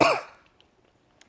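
A single sharp cough bursts out loudly at the start, then fades into near silence with a few faint clicks.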